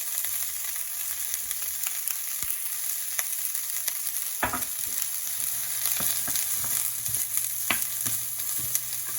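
Broccoli cut fine and long sizzles steadily as it is stir-fried in a pan for spaghetti noodles with ham, with occasional clinks and stirring scrapes and no talking.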